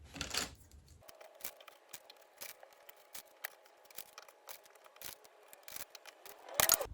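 Plastic clothes pegs snapping onto guitar kerfing one after another, a steady series of sharp, close clicks at irregular intervals with no talking.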